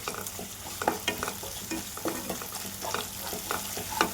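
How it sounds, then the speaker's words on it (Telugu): Raw fish curry masala with ginger paste, onion and tomato frying in a pan, a steady close sizzle with repeated scraping stir strokes throughout, no voices. "ఇలా ఫ్రై అవ్వాలండి, అప్పుడే గ్రేవీ అనేది మంచిగా వస్తుంది."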